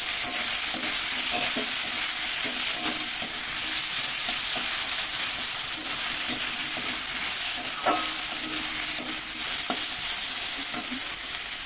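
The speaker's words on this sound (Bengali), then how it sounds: "ভালো করে ভেজে নিচ্ছি।" Potato pieces and soybean chunks fry in a pan with a steady, close sizzle throughout, broken by frequent light clicks and scrapes of a spatula stirring them.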